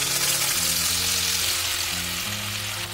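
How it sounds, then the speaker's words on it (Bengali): Tomato, cashew and ginger paste frying in hot oil gives a steady, loud, close sizzle throughout, with faint stirring underneath and a low background hum. "এই পেস্টটা আমি ভালো করে তেলের সাথে কষিয়ে নেব।"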